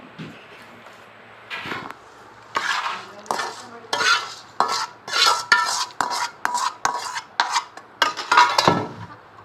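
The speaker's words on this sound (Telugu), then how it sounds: "రెడీ అయింది, పులిహోర కలుపుకుందాం." A spoon scrapes and stirs through tamarind rice in a metal pot, about a dozen rhythmic strokes with clinks against the sides, close and fairly loud.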